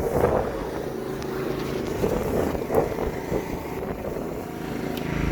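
Brush Bandit Model 65 wood chipper with a 25 horsepower Kohler engine runs outdoors on a windy day, a steady low engine drone mixed with wind buffeting the microphone.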